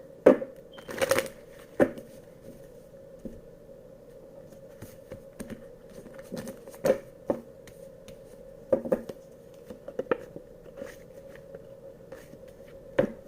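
Cards riffle and snap in short, scattered bursts with quiet stretches in between, close by, over a faint steady hum.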